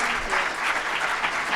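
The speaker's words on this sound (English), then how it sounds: "Can you guys all stand and give her a round of applause?" Standing audience applause at a metastatic breast cancer advocacy event, dense loud clapping from a room full of people filling the whole moment, close and continuous.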